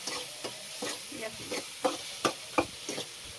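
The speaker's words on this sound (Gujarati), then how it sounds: "ભૂંગળા હોય ને તળ્યા લાગે એટલે ભૂંગળા તળ્યા" Bhungla snacks fry in oil, with a low sizzle under a regular rhythm of about eight scraping stirs or turns, heard up close with no voices.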